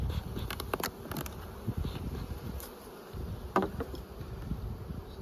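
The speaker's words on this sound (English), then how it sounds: "very few bees down in here" Honey bees in a sparsely populated hive brood box give off a soft, steady buzz, faint and close, with occasional sharper flybys and light knocks of frames over the low hum.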